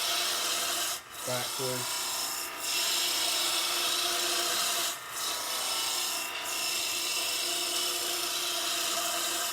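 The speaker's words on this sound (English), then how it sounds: "So we'll do a little bit of a roughing cut with the skew" A skew chisel takes a roughing cut on wood spinning in a lathe, a steady close scraping rasp that runs almost unbroken, dipping briefly a few times, while a voice speaks over it.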